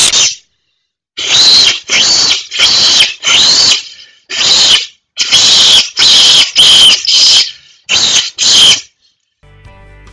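A fox caller device plays a loud, piercing squealing call in about a dozen rapid repeated bursts with brief gaps, close and alone, followed by faint low rumbling at the end.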